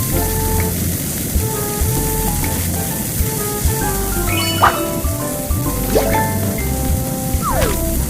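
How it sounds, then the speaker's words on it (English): An egg fries in a cartoon kids' cooking game, a steady crackling sizzle with scattered pops and bright chime-like game tones over it, no voices. "Egg. Swipe left and right to cook it faster."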